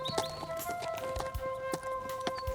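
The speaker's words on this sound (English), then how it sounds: "He borrows a horse and rides up to find Ollie." Hooves of a ridden horse clip-clop in a steady rhythmic beat, moderately close, with a faint tonal hum behind the hoofbeats.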